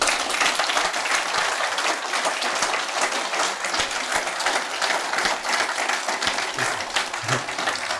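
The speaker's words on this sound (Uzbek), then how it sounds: "shuning bir nihoyatda qizg'in bir olqish bilan qarshi olaylar" A hall audience gives warm, sustained applause, dense even clapping that holds steady for the whole stretch at full loudness, with no break and no clear talk.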